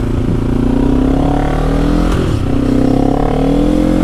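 A quad bike's warmed-up engine runs loud and close, with a steady throaty rumble and a brief rev swell in the middle, no talking over it.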